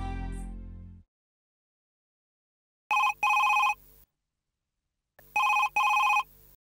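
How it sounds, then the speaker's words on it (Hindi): An old-style telephone bell rings in two double bursts separated by silence, after a brief fading sound at the start. "सलील, आपने अभी फोन क्यों किया?"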